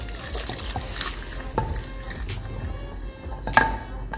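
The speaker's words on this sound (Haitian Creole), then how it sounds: "moi mets les viandes chaudes avec bon de l'eau bouillie" Chicken pieces are stirred and washed in boiled water in a pot, with sloshing liquid, soft scraping and a couple of sharp metallic clinks against the vessel.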